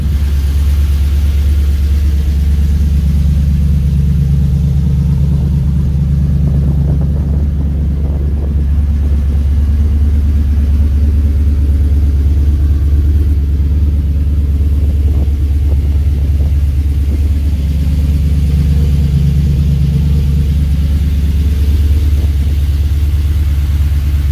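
An LS-swapped Sonoma mud truck on 46-inch tires drives down the street with a loud, continuous low engine rumble. The engine swells gently a couple of times over a steady drone heard from inside the cab.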